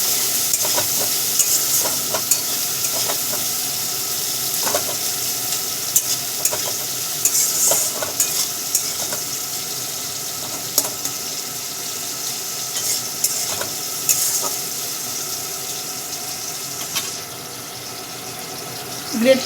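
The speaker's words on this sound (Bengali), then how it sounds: "পেঁয়াজগুলো একটু লাল লাল করে ভেজে নিয়ে" Onions frying in a pan for rui posto, a continuous close sizzle broken by frequent stirring scrapes and clicks of the spatula, running steadily with no speech over it.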